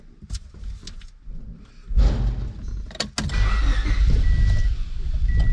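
A car engine revs loudly and steadily on a dyno with a deep rumble, a few sharp clicks and thumps partway through, and a faint whine.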